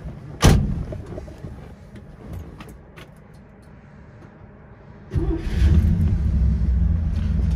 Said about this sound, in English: So I'm gonna hop in and fire it up for you.